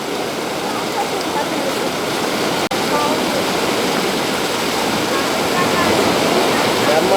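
Rushing water of a flowing stream in an area of wild elephants, a loud, dense, steady roar heard close up, with only a momentary break and no talking.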